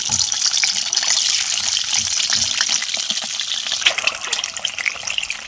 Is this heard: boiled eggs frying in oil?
yes